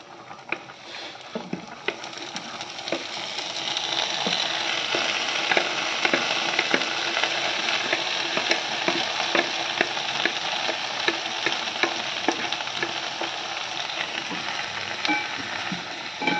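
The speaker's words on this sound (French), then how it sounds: "je vais faire revenir d'abord mes cébettes dans un petit peu de beurre" Spring onions and leeks frying in butter in a saucepan, a steady close sizzle that swells after a couple of seconds and crackles continuously with small spitting pops.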